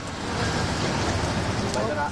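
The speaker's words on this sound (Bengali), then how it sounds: "ভোর থেকে সিলেটেও দেখা মিলেছে বৃষ্টির" Rain falling at dawn over the city of Sylhet, Bangladesh, heard as a steady, dense broadband hiss that holds an even level throughout with no distinct gaps.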